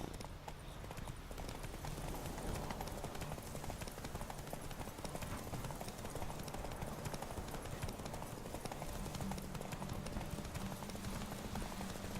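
Horse hooves gallop in a steady, continuous clip-clop rhythm while riding in the Witcher 3 video game, racing toward Kaer Morhen; loud and close throughout with a faint low engine-like hum beneath and no talk.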